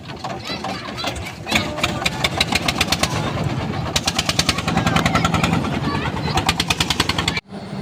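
A motorboat engine chugs on a monsoon-swollen river in Kurigram. The rhythm is fast and even, with a steady mechanical rattle close by, until it cuts off abruptly near the end.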